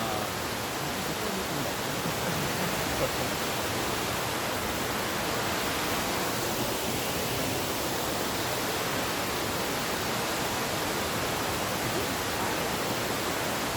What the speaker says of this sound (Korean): 아, 경매 폭포입니다.